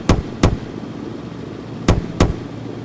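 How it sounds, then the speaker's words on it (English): Four sharp gunshots from an aircraft-mounted gun in SimplePlanes 2, fired as two quick pairs separated by a pause, loud and punchy over a low steady hum. "I just use my joystick to control the gun, like I'm flying, and then we can fire it"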